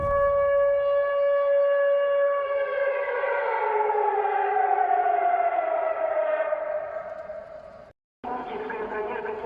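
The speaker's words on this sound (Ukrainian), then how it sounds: "росіянам кажуть, що це просто тренувальна сирена" An air raid siren, reportedly a training siren in Russia, wails loudly with a slowly falling pitch, cuts out abruptly for a moment near the end, then sounds again.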